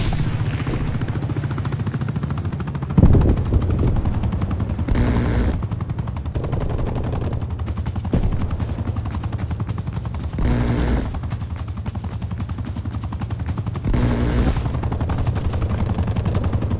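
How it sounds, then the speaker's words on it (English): In Call of Duty: Black Ops Cold War, an attack helicopter's rotor thrum runs throughout while bursts of rapid machine-gun fire break in repeatedly, loud and close, with no talking. "requested attack chopper deployment"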